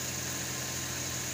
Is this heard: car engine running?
yes